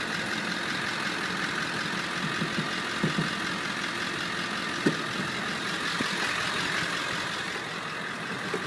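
A truck with a six-speed manual gearbox and about 202,000 miles idles steadily with a low, even rumble, joined by a few faint clicks and knocks.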